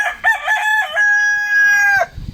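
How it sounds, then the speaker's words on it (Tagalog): A single loud rooster crow nearby, starting with a few choppy notes and then holding a long, steady call before breaking off. "Yung manok nagsasalita."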